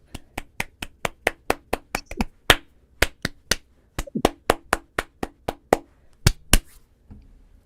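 Sharp, dry hand claps ring out one after another in a quiet room at the start of a podcast recording, about two dozen close, loud slaps in an uneven rhythm with brief pauses and a short murmur between them.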